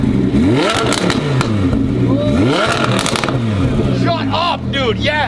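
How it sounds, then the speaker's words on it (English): A car's aftermarket exhaust with its valves open, a loud, throaty rumble with rising revs swelling and falling close to the microphone, while people talk and react over the engine. "This is valves open right now."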